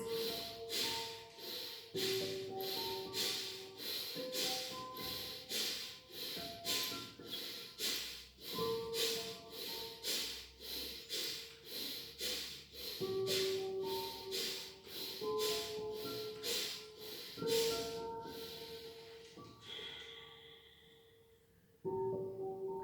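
Rapid, repeated forceful breaths of a breathing exercise, a steady rhythmic train of sharp exhales with a short pause near the end, close and fairly loud with no talk.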